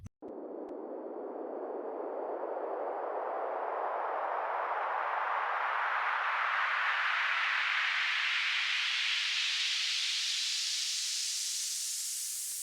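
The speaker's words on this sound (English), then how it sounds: "Noise riser, and I always start from the same noise." A long band of synthesized noise in a psytrance build-up sweeps steadily upward in pitch over about twelve seconds, growing brighter and slightly louder as it climbs, with no voices.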